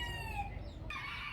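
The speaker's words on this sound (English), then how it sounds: "this garden's full of chickens and birds and cats and other dogs" Chickens in a garden cluck and crow in a short burst, fairly close and fairly loud against a low outdoor rumble, with no voices.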